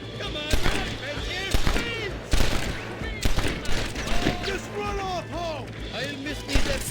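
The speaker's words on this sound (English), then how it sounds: "We're shooting guns." Gunfire in the video game Red Dead Redemption: a rapid string of sharp, loud shots crack out at irregular intervals, some close together like a volley, while people talk over and between the blasts.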